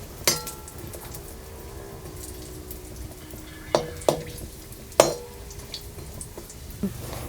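Dry turmeric roots and dry ginger being roasted in a pan for homemade black masala, with a quiet continuous background and a few sharp clinks and scrapes of a utensil against the pan, spaced irregularly.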